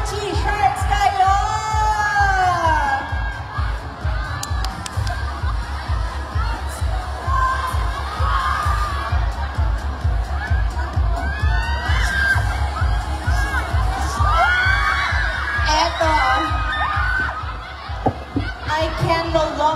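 A crowd of children cheers and shouts at a mall tour event in Robinsons Galleria, Cebu, producing a continuous loud roar of screams and whoops with a steady rhythmic clapping or stomping underneath, voices talking within it.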